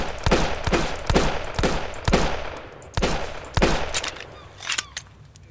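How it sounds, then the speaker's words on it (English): Scrap pistol in the Sunkenland video game firing a rapid series of about eight sharp, loud shots, each followed by a brief echo, with a short pause partway through and a quieter clack near the end. "One more, and this is the scrap pistol."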